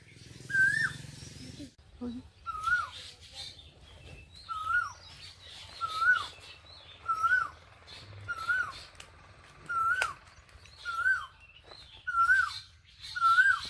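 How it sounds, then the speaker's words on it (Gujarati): Asian koel singing repeatedly, a rising call every second or so in a steady series, moderately near, with a voice speaking briefly at the start over low background noise. "કોયલ જો કેવી બોલે"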